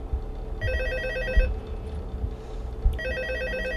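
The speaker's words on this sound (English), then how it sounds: "Phone call from home." A telephone rings in Five Nights at Freddy's 2, with two electronic ring bursts separated by a short gap, loud and close over a low background rumble.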